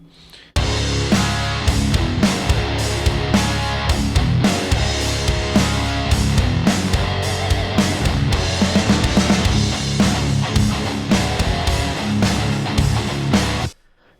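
Two electric guitars playing together in one mix, loud and dense, kicking in after a brief quiet moment and stopping abruptly at the end.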